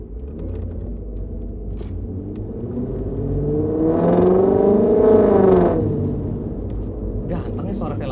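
A BMW E30 fitted with a V8 engine idles with a low rumble, then revs up and back down in one smooth swell over a few seconds, with people talking nearby.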